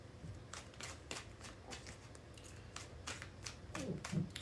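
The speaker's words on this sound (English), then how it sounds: "3 more shuffles." Soft, papery riffling bursts of tarot cards being shuffled, repeating in quick irregular strokes, close and fairly quiet, with no talking.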